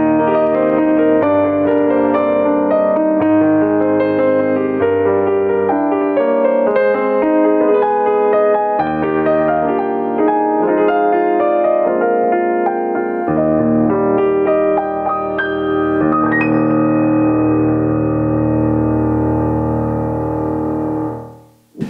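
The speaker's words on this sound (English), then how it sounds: "Let's have a play on the Bösendorfer Imperial that it's got built in, the concert grand piano that sounds like this." Yamaha CLP-785 Clavinova digital piano using its built-in Bösendorfer Imperial concert grand sample, with a rich chordal passage of sustained notes played steadily and loudly, ending on a long ringing chord that is cut off abruptly.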